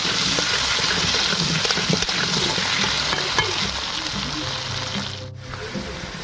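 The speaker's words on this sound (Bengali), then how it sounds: "আলুটা ভালো করে লাল লাল করে ভেজে নেব।" Potatoes seasoned with salt and turmeric frying in a kadai of hot oil, a steady loud sizzle with occasional stirring scrapes that dips briefly near the end.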